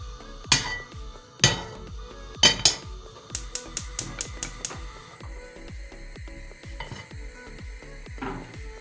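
A cooking pot for kibbeh clanks and knocks on a stovetop, several loud metallic bangs followed by a quick run of lighter rhythmic taps and scattered softer clinks, close by, with no talk.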